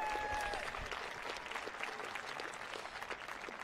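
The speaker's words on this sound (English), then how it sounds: "Applause." A crowd applauds at a college transfer achievement celebration at Mt. San Antonio College, a steady, moderately faint patter of many hands clapping with a brief tonal sound at the start.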